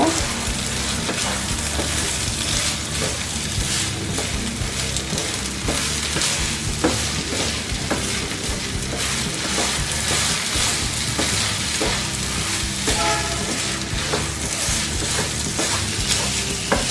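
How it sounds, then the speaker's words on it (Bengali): Beef and rice stir-fried together in a pan for beef tehari give a dense, unbroken sizzle and frying hiss with frequent spatula scrapes, loud and close throughout. "এটাকে আমি ভালো করে চালের সাথে মিশিয়ে দিব"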